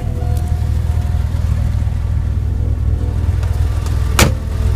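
A 1996 Porsche 911 Turbo (993) engine idles steadily with a low, even rumble throughout, a brief sharp click near the end.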